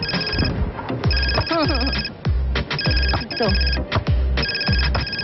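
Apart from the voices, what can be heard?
phone ringing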